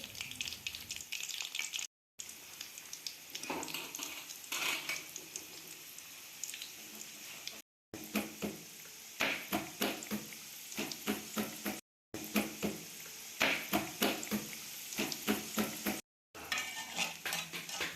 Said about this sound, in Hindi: एक कढ़ाई में कुकिंग ऑयल को हल्का सा गर्म करेंगे और ये रोल्स रखते जाएंगे फ्राई होने के लिए।